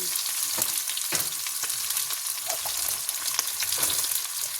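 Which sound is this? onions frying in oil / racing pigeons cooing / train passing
onions frying in oil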